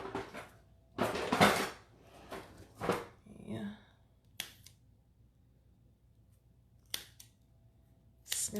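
Scissors snip off the end of a tube of sugar cookie dough in a home kitchen. A few sharp, crisp cuts sound close but quiet, with soft handling noises and pauses between them.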